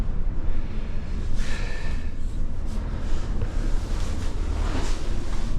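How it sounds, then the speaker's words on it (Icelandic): Strong wind roars steadily against the microphone high on a ski slope at an Austrian ski area, a loud continuous buffeting rush with gusts and no voices. "Háa rok hérna uppi."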